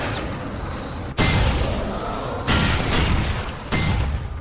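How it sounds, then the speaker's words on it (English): Explosions in the video game Alan Wake: three heavy booms arrive roughly a second apart, each hitting suddenly, rumbling loudly, and decaying under continuous dense noise. "Explosions!"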